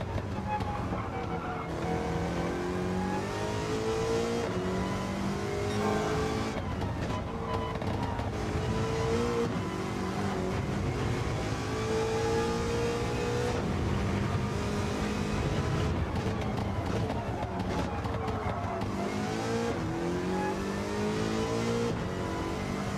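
Muscle car engine from an American muscle car racing video game, roaring continuously and loud, with revving rises and falls through gear changes and corners, occasional faint tire squeal, no talk over it.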